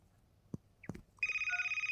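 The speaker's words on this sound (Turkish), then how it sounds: "Ay telefon çalıyor bu saatte." In a Toca Boca game, a few soft taps and clicks give way to a telephone ringing, a steady pulsing electronic ring that stays loud and close to the end.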